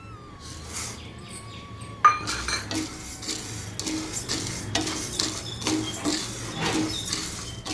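Metal spoon scraping and clinking against a pan while toor dal, urad dal and fenugreek dry-roast for tiffin sambar, with a sharp clank at the start, then steady close stirring scrapes and light taps, no talking.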